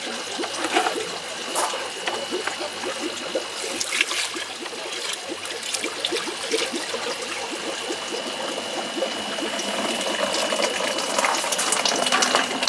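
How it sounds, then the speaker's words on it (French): Water poured from a bucket into sand to test drainage, a steady close-up rushing trickle that continues evenly throughout with no talking. "je vais mettre à peu près la même quantité d'eau. Je vais le verser dedans et puis on va regarder la vitesse à laquelle ça sort"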